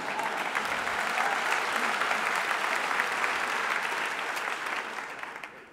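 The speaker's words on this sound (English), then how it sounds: "you can clap for that." A sustained round of clapping rises from a large lecture audience at a Bioneers environmental talk, dense and even for several seconds before it begins to thin and fade toward the end.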